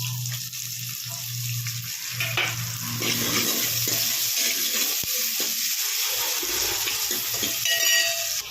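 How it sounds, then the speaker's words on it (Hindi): Chopped onions frying in a pan, a steady sizzle running through the whole stretch, with stirring scrapes and a brief burst of running tap water partway through. "प्याज को हम 2 मिनट अच्छी तरह भून लेंगे।"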